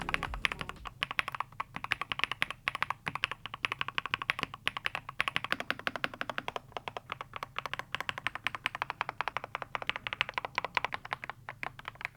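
Typing on HATOR Skyfall 80% wireless mechanical keyboards: a fast, dense stream of crisp key clicks and clacks at close range, continuous and fairly even throughout with no talking.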